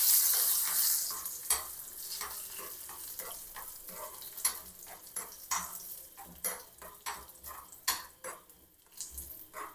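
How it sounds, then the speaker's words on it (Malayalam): Raisins and cashews roast in ghee with a soft, continuous sizzle, broken by repeated scrapes and taps of a spoon stirring against the pan. "ഇച്ചിരി നെയ്യൊക്കെ ഇട്ട് നന്നായിട്ട് കിസ്മിസും അണ്ടിപ്പരിപ്പും ഒന്ന് നല്ല ബ്രൗണിഷ് കളറാവുന്ന പോലെ"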